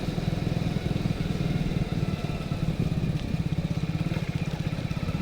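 A motorcycle riding along a road, its engine thrumming in a steady, fast low pulse that stays loud and close throughout with no talking.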